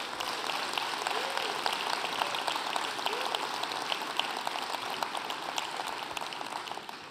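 A crowd applauds at a Liberal Party general council in Drummondville, a continuous, even wash of many hands clapping at moderate volume with no voices on top.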